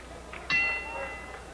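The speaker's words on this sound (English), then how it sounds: "And there's the bell to start round number 1." Boxing bell rung to open round one of a televised professional fight, a single sharp metallic clang with a ringing tail over arena crowd murmur.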